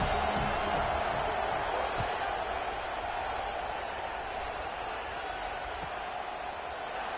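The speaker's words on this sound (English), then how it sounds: "this crowd is buzzing after that last score" A stadium crowd roars in a steady, dense wash after a football touchdown, loud and sustained for the whole stretch with no breaks.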